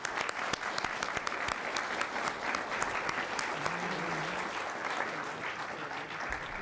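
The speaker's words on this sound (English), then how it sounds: "Let's give them all a warm round of applause." An audience applauds award recipients at a county commission regular meeting, with dense, steady clapping that fills the room evenly from start to finish, without pause or speech.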